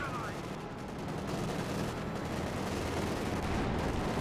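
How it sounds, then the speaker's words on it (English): Panzer IV tank opening fire on infantry in the video game Company of Heroes 2, a continuous dense wash of battle noise with gunfire blending into a steady roar throughout. "Panzer IV is just opening fire, killing infantry"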